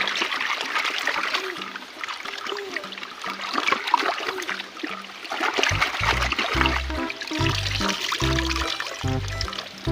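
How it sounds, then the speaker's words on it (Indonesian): A small stream trickles and splashes steadily nearby, a continuous bright watery wash, joined partway through by low rhythmic thumping. "Kakak berhasil menemukan sungai kecil ya."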